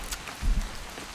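Steady rain falls in the video game What Remains of Edith Finch, a soft continuous hiss of drops on surfaces with a faint low thump partway through.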